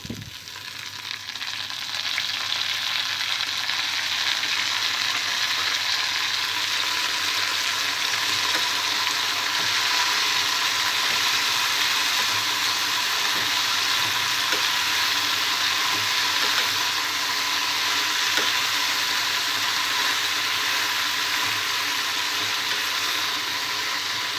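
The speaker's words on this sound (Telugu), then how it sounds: "పచ్చిమిరపకాయలు కొద్దిగా ఫ్రై అయిన తర్వాత ఇందులో చింతపండు వేసుకోవాలి." Green chillies frying in oil in a pan with tamarind and mint going in, a loud, continuous sizzle with faint stirring scrapes throughout and no talking.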